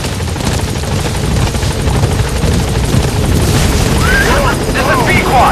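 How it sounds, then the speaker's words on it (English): Support helicopter in Metal Gear Solid V: The Phantom Pain arriving, a steady loud rotor roar with low rumbling throughout, while a voice speaks briefly over it. "Support helicopter has arrived."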